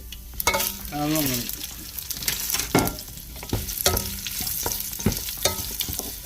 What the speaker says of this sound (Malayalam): നമുക്ക് കടുക് ആദ്യം ഇട്ട് കൊടുക്കാം കേട്ടോ. ഇതിൽ ഒരു 4-5 ഉണക്കമുളകും കുറച്ച് വേപ്പില,